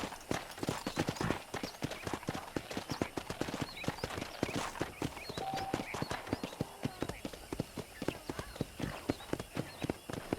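Steady clip-clop of horse hooves at a trotting rhythm while riding in the video game Red Dead Redemption, close and fairly loud, with a few brief voice sounds over the hoofbeats.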